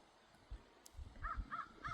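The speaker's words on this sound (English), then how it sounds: "Listen to the birds." Crows caw outdoors on a nature walk, three or four rhythmic harsh calls in quick succession, fairly distant and faint over soft ambient noise and low rumbles.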